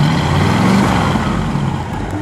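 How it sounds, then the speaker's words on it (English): Rev of a 1960 Pontiac Bonneville convertible's 389 V8, a loud, close, continuous rumbling engine roar that holds steady and eases slightly toward the end. "Go ahead, give it a rev."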